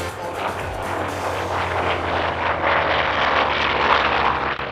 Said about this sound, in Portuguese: E ouvir esses motores funcionando enquanto o Lightning passava na frente do público